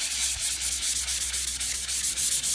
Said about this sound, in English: And it doesn't need a lot of sanding,